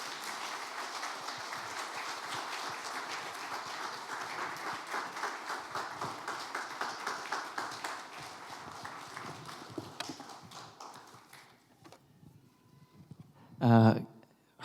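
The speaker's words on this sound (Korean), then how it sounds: "뜨겁게 다시 한번 박수해 주시면 고맙겠습니다" A church congregation at a national pastors' fellowship gathering claps for a pastor in a steady, rhythmic beat that gradually fades, ending with a brief loud sound.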